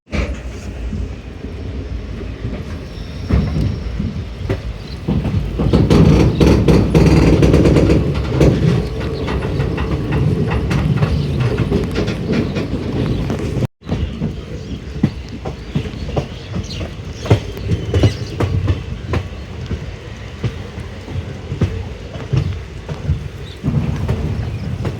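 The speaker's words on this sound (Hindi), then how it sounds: "और ये है गुवाहाटी साइडांग एक्सप्रेस।" The Saidang Express passenger train runs toward Guwahati, a loud, close rumble with rhythmic clickety-clack of wheels over rail joints that swells and shifts as the carriages pass, with no talking.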